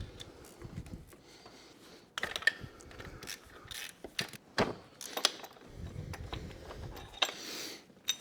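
Bolts being loosened from the fuel pump bracket of a BMW F30 using a ratchet, with close clicking pawl sounds, clanks and tool knocks in irregular bursts.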